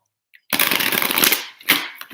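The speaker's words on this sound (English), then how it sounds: "Let's go ahead. Let's shuffle." A deck of tarot cards is shuffled close up in one quick riffling burst of crisp papery flutter lasting about a second, followed by a shorter second flick.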